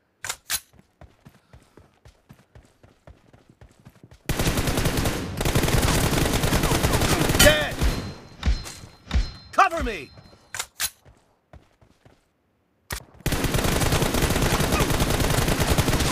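PUBG team deathmatch gunfire from an M4 rifle: rapid single shots, then long loud automatic bursts, a brief silence and another sustained burst, with a short spoken word.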